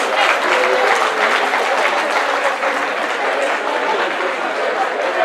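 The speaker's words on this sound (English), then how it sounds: "Give them a round of applause, please." An audience at an intercultural conference applauds after a cultural association's performance, producing loud, dense, sustained clapping that holds evenly for several seconds with a light murmur of crowd noise underneath.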